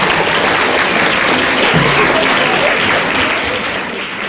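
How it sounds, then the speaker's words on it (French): A school audience at an Africa-themed student event applauds loudly, a thick, steady wall of clapping that fades slightly toward the end. "Merci, on les applaudit très fort."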